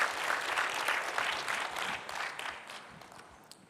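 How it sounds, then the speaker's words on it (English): An audience at a food systems pitch day claps together, a dense, moderately loud burst of applause that gradually thins and fades toward the end. "Give her another clap, please."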